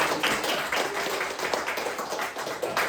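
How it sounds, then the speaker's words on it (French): A French comedy show audience applauds comedian Vincent with a fairly soft, steady wash of many hands clapping that lasts the whole moment. "Donnez un applaudissement pour Vincent, s'il vous plaît."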